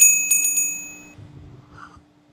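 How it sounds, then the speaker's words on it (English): A bicycle bell rings in a few quick bright strikes at the start, its tone ringing on and fading, followed by low rumbling room noise. "That's the bell right there."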